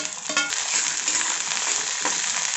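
Capsicum and carrot stir-frying in a pan with ginger-garlic paste for street-style fried rice, a steady loud sizzle and hiss with a few soft stirring scrapes, no voices.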